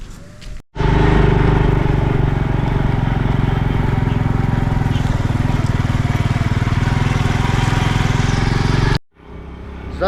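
Motorcycle engine running steadily while riding on a warm, breezy day, a loud continuous drone with a steady low hum that cuts off abruptly near the start and again near the end.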